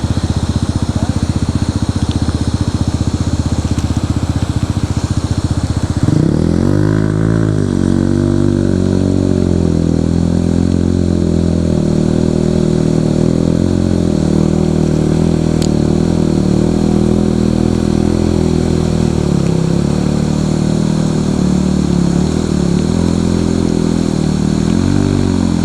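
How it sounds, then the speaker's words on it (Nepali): Motorcycle engine idling close by with a rough, throbbing rumble, then revved up after about six seconds into a loud, sustained, wavering growl that holds to the end. "जुरुक्कै घुमाइदिइरहेछ कोलाले बाइक"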